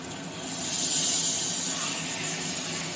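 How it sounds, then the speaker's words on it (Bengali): Water poured into a hot pan of chicken curry gives a steady, close sizzling hiss that swells briefly and then holds, with no talk. "জল দিয়ে দেবো এবার।"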